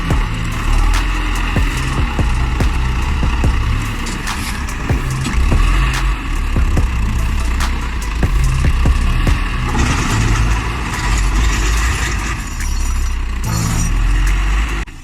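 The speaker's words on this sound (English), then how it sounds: "The skidder's engine growls as it makes its way uphill, pulling heavy timber behind it." An old red forestry skidder's engine drones and growls steadily as it climbs a forest slope hauling heavy logs, with faint clinks over the continuous rumble.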